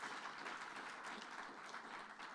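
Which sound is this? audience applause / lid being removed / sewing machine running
audience applause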